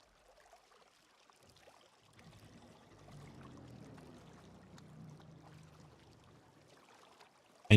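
Water rushes steadily out of a pipe in the factory-building game Satisfactory, a quiet, low, churning flow that swells for a few seconds and then fades, with no talk over it.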